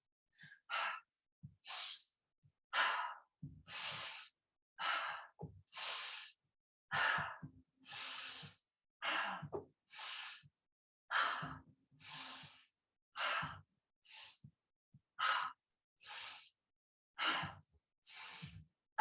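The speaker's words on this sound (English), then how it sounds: "Make the breath quite powerful." Powerful rhythmic breathing during a yoga breathing exercise: a steady series of forceful, close breaths, each a sharp whooshing burst separated by brief silences, repeating about once a second.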